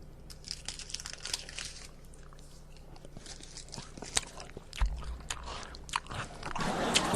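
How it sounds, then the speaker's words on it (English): Close-up chewing and biting on crunchy food right at the microphone, with crisp irregular crunches and mouth clicks over several seconds and a louder burst of rustling near the end; no talking. "I'm getting ready to get my chew on in your ear."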